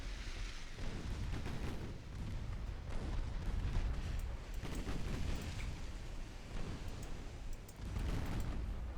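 Naval artillery fire from warships in the video game Ultimate Admiral Dreadnoughts, a steady rumbling wash of repeated booming salvos with no clear gaps, loud and continuous without talk.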